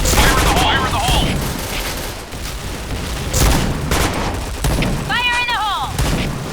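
Gunfire and grenade blasts in a Sandstorm-map clan match of a war video game, with dense rapid shots, heavy booms and steady battle noise throughout, while a voice calls out in a raised, sung tone twice.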